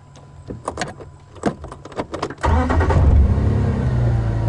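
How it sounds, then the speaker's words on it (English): A safari vehicle near elephants starts with clicks and cranking, then its engine settles into a steady, loud, close idle rumble for the remaining seconds. "Always very important to let the engine idle for a little bit before you move around elephants."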